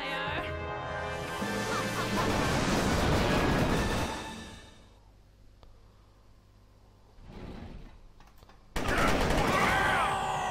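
Bursts of gunfire in the video game Psi-Ops, a dense loud stretch of rapid shots at the start, a quieter lull, then more firing returning near the end.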